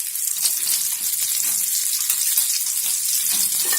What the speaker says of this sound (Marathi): असंच आता हा दुसरा फिश मी फ्राय करून घेते